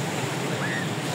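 Ocean waves wash continuously onto Slili beach in Gunung Kidul, a steady broad roar with wind buffeting the microphone and no break in the surf.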